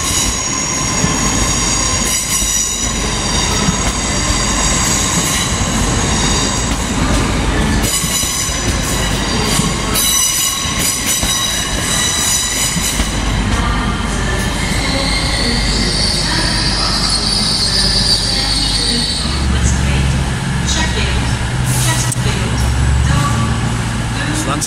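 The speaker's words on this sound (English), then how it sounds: "That's heading south, that cross-country Voyager." A CrossCountry Voyager train rumbles past close by, loud and continuous, with wheel noise and squeals, a rising tonal whine, and the low throb of its engine, while voices are heard over it.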